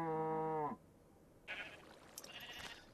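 Minecraft sheep bleat once in a wool-shearing machine, a loud, close, buzzy bleat, followed by quiet clicks and soft game sounds.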